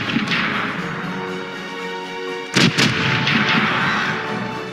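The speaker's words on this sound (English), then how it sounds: "Starboard is ready to fire! Open fire!" Ship cannons fire a broadside in the pirate sailing game Corsairs Legacy: two sharp booming blasts close together midway, heard over a constant loud rumble of game ambience and music.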